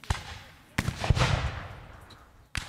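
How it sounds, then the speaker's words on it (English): Several sharp video game gunshots ring out in quick succession, each followed by a rumbling echo, loud and close. "And more gunshots."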